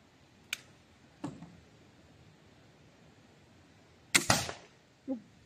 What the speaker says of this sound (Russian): стрелу без наконечника вообще попробуем в железный холодильник загнать